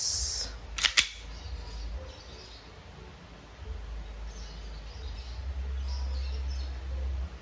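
A WE Hi-Capa 2011 T-Rex semi-automatic airsoft pistol with a silver slide fires two sharp, close snaps in quick succession near the start, then only quiet room noise remains.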